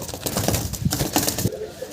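A pair of young Shadel owl pigeons coo steadily in a string of soft, close throaty pulses, with some rustling in the background.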